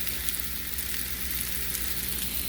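Meatballs sizzle in a pan while being stirred uncovered, heard as a soft, even, continuous frying hiss with no clear breaks.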